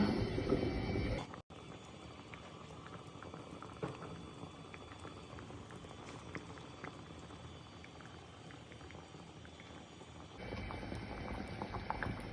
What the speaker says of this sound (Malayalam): നല്ലപോലെ എല്ലായിടവും തിളച്ചിട്ടുണ്ട്.